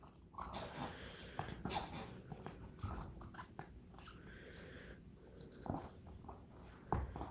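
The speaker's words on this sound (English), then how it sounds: "If you hear the squeaking, guys, it's my dog playing with the ball that he broke." A dog chews and works a broken toy ball, producing faint squeaks, snorts and breathy sniffing in a quiet room, all soft and irregular.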